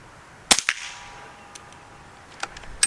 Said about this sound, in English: it's shooting past the sound barrier and it's cracking the sound barrier